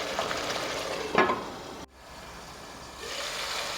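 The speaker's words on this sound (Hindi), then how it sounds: "ये इतनी देर मैं इसको भूनूंगी कि इसका ऑयल जो है वो सरफेस पे आ जाए" Mutton frying in a karahi for mutton karahi gosht, a steady oily sizzle and hiss with a brief scraping stir, a sudden drop in sound, then the sizzle building again, close and alone.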